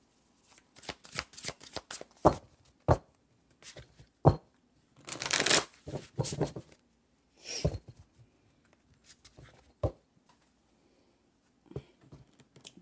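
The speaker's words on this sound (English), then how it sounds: "Very big deck. Very hard to shuffle for me." A very large deck of cards being shuffled by hand, close and clear, with bursts of riffling and flicking cards in uneven runs separated by short pauses.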